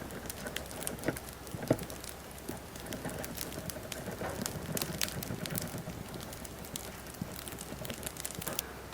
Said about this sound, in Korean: 바게트가 구워져서 나오면 이렇게 타닥타닥 장작 타는 듯한 소리가 나요.